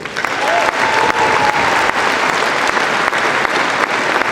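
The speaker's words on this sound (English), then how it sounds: "Let's give a final round of applause to these girls in our inaugural class of the Girls Basketball Hall of Fame." An audience at a girls basketball hall of fame induction ceremony gives a sustained round of applause for the inaugural class, steady and dense clapping throughout, close and loud.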